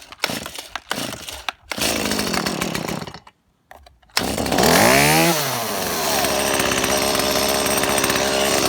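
A cold Stihl chainsaw with a new pull-start assembly and choke on is cranked with several rapid pull-cord rasps, pauses, then fires and revs loudly, settling into a steady high-pitched run.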